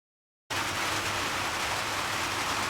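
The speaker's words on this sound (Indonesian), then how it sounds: "ini saya buat video di dalam karena sudah mulai hujan di luar." Steady rain falls outside in Indonesia, a dense, even hiss of raindrops that starts abruptly after a half-second of silence and continues unbroken, fairly loud and close.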